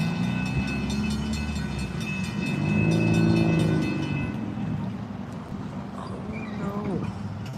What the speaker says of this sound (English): there goes our second catch of today's stream, a southbound Brightline Orlando health wrap